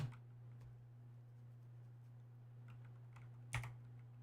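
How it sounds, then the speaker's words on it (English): A MySQL command is typed on a computer keyboard, with faint scattered key clicks and one sharper tap near the end over a steady low electrical hum, quiet and close with no talk. "I'm just going to type it in."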